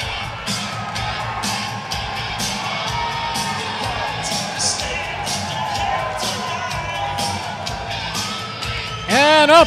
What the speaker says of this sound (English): And you hear that crowd.